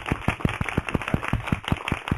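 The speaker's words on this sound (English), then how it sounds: "Applause, applause, applause." A small audience claps at the end of a radio interview with wrestler Al Snow, a steady run of crisp, evenly spaced claps heard close and alone.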